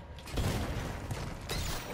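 Mechanical whirring and clanking of a power wrench turning in Batman: Arkham Knight at ACE Chemicals, a continuous grinding rattle with a couple of heavier clunks, fairly loud and steady.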